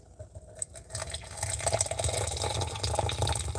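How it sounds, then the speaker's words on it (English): Hot water pours from a kettle onto a tea bag in a mug inside an old homestead, a steady, loud splashing rush that swells after the first second and runs on without pause. "Here goes the water."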